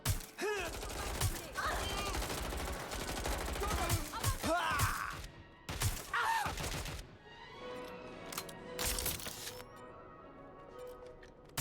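Gunfire in the video game Watch Dogs: Legion: dense bursts of shots and impacts fill most of the passage, loud and close, with a few quieter gaps and occasional voices mixed into the chaos.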